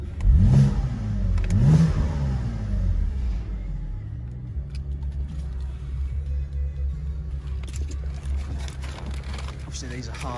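A 2011 BMW Z4 sDrive 23i M Sport engine is given two quick revs that rise and fall, then settles into a low, steady idle rumble heard close up.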